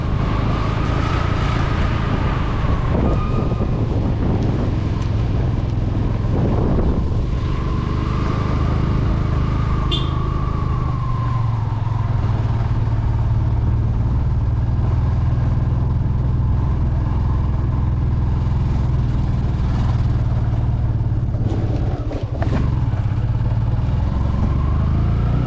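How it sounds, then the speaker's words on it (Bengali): A motorbike engine drones steadily while climbing a steep mountain road from Siliguri toward Sittong in North Bengal, holding a continuous labouring note with scattered rattles and clatter throughout, no voices. "আর এই রাস্তাটা বাইক নিয়ে ওঠাটা সত্যি দেখার মতো।"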